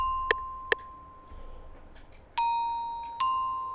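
A dry one-shot sample with no effects: two quick, bright bell-like pings followed by two longer sustained chime tones, each clean and close and decaying, heard alone.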